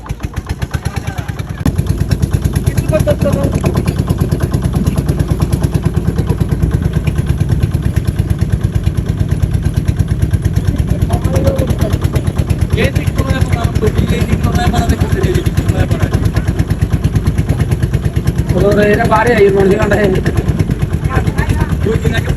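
A motor boat engine runs loud and close throughout, a steady rattling mid-pitched drone, while people talk over it.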